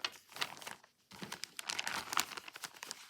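A plastic baggie crinkles and rustles as it is handled up close, with sharp irregular crackles, a brief quiet gap, then more busy crinkling.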